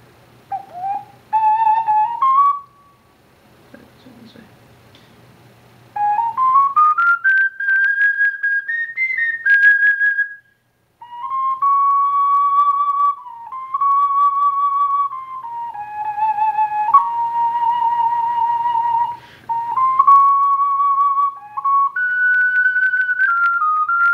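A small ceramic ocarina plays a wandering solo melody of clear, pure whistle-like tones. The phrases glide and step up and down, pausing briefly between them. The tones are close, steady and fairly loud, and there is no talking.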